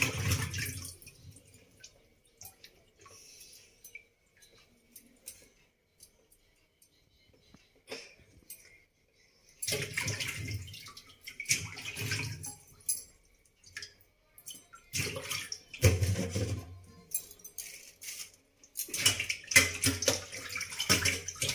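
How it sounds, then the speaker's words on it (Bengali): Running water splashes over pieces of cut fish being washed, coming in intermittent bursts of gushing and dripping separated by quieter gaps. "চলো মাছগুলো ধুয়ে নিয়ে যাক"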